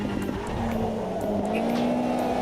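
Race car engine in a video game race, a steady loud drone with a sustained tone shifting as the car brakes into a corner, no talk over it.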